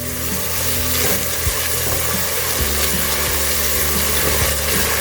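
Onions with salt sauté in a pan for a white chickpea curry, giving a loud, continuous sizzle with faint stirring scrapes underneath and steady music in the background.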